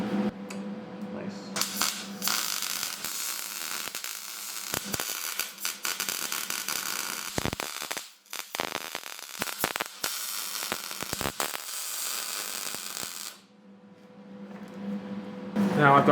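Tack welds go onto a steel go-kart frame with bursts of harsh, crackling hiss, mostly continuous with brief breaks and short pops between them.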